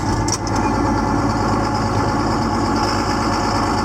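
A truck engine runs loud and steady just after a cold start, a rough, close, continuous idle rumble with no voices over it.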